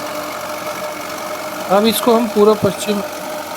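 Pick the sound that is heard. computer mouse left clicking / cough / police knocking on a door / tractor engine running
tractor engine running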